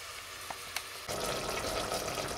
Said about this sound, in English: and all this can be fried together